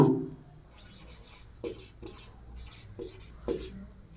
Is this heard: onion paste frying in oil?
no